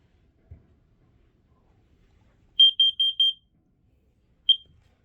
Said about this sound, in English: now let's wait for the carbon monoxide round. Warning, carbon monoxide.